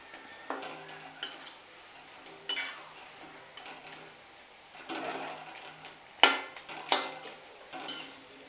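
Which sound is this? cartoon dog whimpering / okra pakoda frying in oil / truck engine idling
okra pakoda frying in oil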